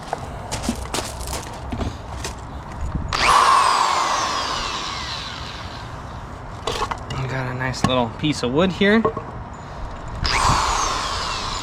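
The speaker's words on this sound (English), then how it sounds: "So as I'm running this drill, I don't know if you can see that." A roughly 300-watt power drill bores into a small piece of wood outdoors. There are two whining bursts, one long and one short, with a person talking nearby between them.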